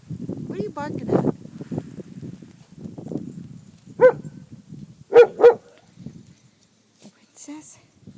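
Several dogs barking outdoors in snow after a blizzard in Tulsa, a few sharp barks in a quick cluster amid quieter rustling, with a person calling to them at times.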